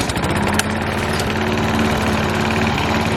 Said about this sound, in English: let's mow the lawn for some money